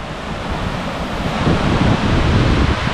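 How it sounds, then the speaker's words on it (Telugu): Water rushing at Dudhsagar waterfall on a trek route, a steady dense broadband roar that swells slightly louder midway and continues without a break. "ఇక్కడ చూడండి బాగా ఫ్లో అవుతుంది వాటర్"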